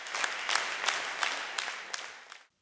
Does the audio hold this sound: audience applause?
yes